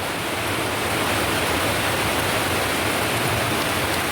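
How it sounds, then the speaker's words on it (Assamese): Heavy monsoon rain falling over a rural paddy field, a dense, steady broadband roar that stays loud and unbroken throughout with no voices. "এই মুহূৰ্তত ইমান ডাঙৰ বৰষুণ"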